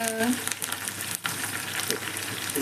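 Seeds, curry leaves and dried red chillies hit a pan of browned onions for a bitter gourd fry and crackle in a dense, loud sizzle that continues throughout with a few stirring scrapes and no talk over it.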